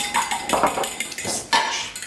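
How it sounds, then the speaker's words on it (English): Egg being beaten with a splash of olive oil in a bowl, the utensil knocking and clinking against the side in quick uneven strokes, close and fairly loud, with no talking. "I put a little bit of olive oil as I beat the egg"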